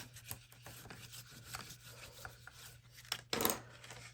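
A tool burnishes folded paper along the outer edge of a handmade booklet, with soft, close rubbing and scraping strokes over a low steady hum, ending in a brief louder swipe.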